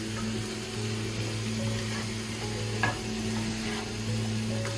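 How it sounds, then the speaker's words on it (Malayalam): A broccoli Spanish omelet mixture cooks in a pan with a soft, even sizzle over a steady low hum, and one brief scrape of stirring partway through. "ഇനി നമുക്ക് ഇടയ്ക്കൊക്കെ ഒന്ന് ഇളക്കി കൊടുക്കണേ."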